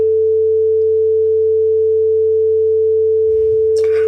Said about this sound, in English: A pure sine wave form is the simplest periodic sound. However, it soon becomes annoying.